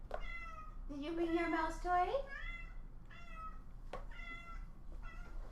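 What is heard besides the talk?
cat meowing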